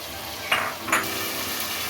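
Potatoes fry in a pan with ground coriander and garam masala for aloo pulao, under a steady close sizzle broken by two quick scraping stirs of a spoon.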